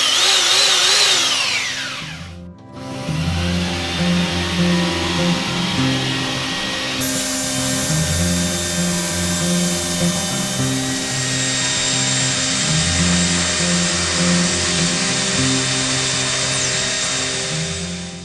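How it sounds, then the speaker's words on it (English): A belt sander fitted with coarse grit sandpaper grinds into a textured wall, a loud sustained motor roar with a rasping, shifting whine that runs throughout after a short pause near the start. "grabbed the belt sander with a real coarse grit sandpaper"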